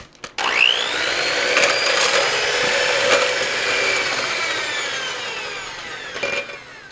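An electric mixer whirs steadily as it beats rum cake batter with instant pudding mix, close and even in pitch, starting with a quick spin-up and running on with slight changes in load.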